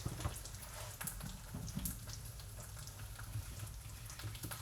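Sliced plantains frying in a pan of butter in Ecuador give a soft, steady sizzling hiss that carries on without a break, quiet and heard alone.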